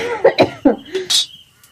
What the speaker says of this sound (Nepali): कति खोक्नु भएको?